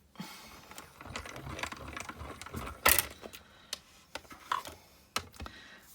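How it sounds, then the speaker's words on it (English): A small Stampin' Up die cutting machine cranks paper through its rollers, producing close, irregular ratcheting clicks and clacks with a few sharper snaps, and no speech. "let's get the big die cutting machine, the little die cutting machine out and get some cutting done"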